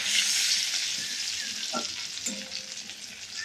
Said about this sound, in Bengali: আমি ওই তেলের মধ্যে একটু জিরে ফোড়ন দিয়ে দিচ্ছি